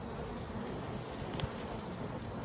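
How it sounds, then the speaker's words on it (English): A steady, dense buzzing of many honeybees swarming around a hive fills the air, a continuous low hum with no talking. "The bees are swarming around in a large cloud."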